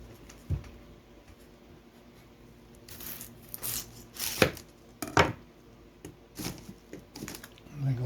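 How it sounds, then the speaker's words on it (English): A knife cuts the ends off an onion on a board, a few sharp close thuds and crisp slicing strokes spread unevenly through a quiet kitchen, with faint background noise in between. "Let's do the onion next. Take my ends off."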